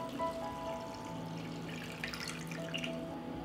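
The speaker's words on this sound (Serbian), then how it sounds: "I u šerpu sipam hladnu vodu do visine poklopca." Cold water pours and splashes steadily into a cooking pot holding jars, a continuous trickling flow heard close up with no voices.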